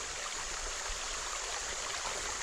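A creek runs steadily over a flat stretch of streambed, its broadband rushing and babbling wash continuous and close, with no voices.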